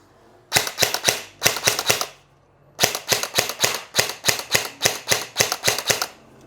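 An airsoft gun on a Picatinny-railed body fires in semi-auto mode: a burst of six sharp, rapid shots, a brief pause, then a longer string of about fifteen evenly spaced cracks, loud and close with no talking.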